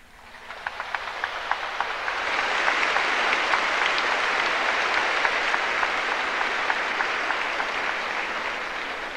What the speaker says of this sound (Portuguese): Eu agradeço porque você bateu palmas